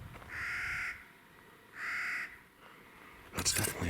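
Two loud, harsh crow caws, each about a second long, spaced apart, followed by a brief burst of broadband noise.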